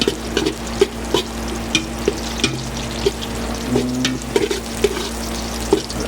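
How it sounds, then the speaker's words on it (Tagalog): Onion and garlic sizzle steadily in a hot pan while a utensil stirs them, with regular close scraping knocks over a constant frying hiss and no talking. "Haloin na ng konti hanggang maluto ang ating mga sangkap."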